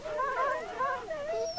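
Sick dogs in the video game Wasteland 2 whimper and whine in a few rising and falling pitched cries, fairly clear and close with no talking.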